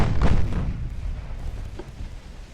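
Deep booming naval gunfire and HE shell impacts in Ultimate Admiral: Dreadnoughts, a heavy thud up front followed by rumbling, fading explosions and a few lighter distant hits.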